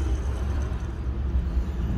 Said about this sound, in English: here's what the old pulley sounds like